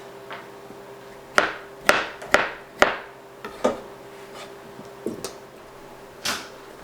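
Several crisp knife chops through dill pickle spears on a cutting board, irregularly spaced, near and moderately loud over a steady background hum.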